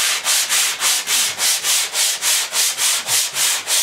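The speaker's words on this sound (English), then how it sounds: "Notice I'm sanding the smooth side, not the rough side." Close-up hand sanding of the smooth side of hardboard with a quick, even rhythm of back-and-forth rasping strokes, about three per second, dry and scratchy with no talking.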